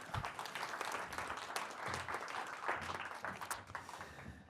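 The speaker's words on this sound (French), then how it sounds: "On peut applaudir." An audience applauds at a French conference presentation on tax data and economic policy, a steady wash of many clapping hands lasting several seconds, fairly faint and distant, with no voices over it.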